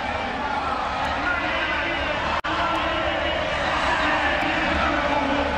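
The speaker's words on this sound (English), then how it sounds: "you're going to get the loud cheer for this man" Large stadium crowd at the African Games athletics roaring steadily for a heat winner, a continuous loud wash of cheering and babble with one brief dropout midway.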